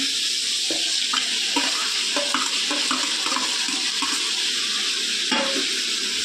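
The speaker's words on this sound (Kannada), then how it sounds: "ಇವಾಗ ನೆಕ್ಸ್ಟು ಟೊಮೊಟೊ ಕಟ್ ಮಾಡ್ಕೊಂಡು ಇಟ್ಕೊಂಡಿರೋವಂಥ ಟೊಮೊಟೊನ ಹಾಕ್ಕೊಳ್ಳೋಣ" Chopped tomatoes added to a hot frying pan for shavige bath and stirred: a loud, steady sizzle fills the whole stretch, with intermittent soft scraping and clunking from the stirring.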